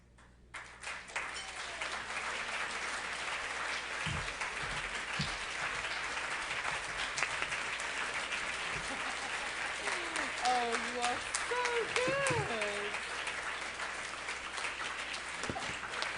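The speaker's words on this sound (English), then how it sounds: "let's give them a big clap" Applause from an audience at a Jewish schools awards ceremony as the judges return to the room, steady moderate clapping lasting the whole stretch, with a few brief voices and faint chatter underneath.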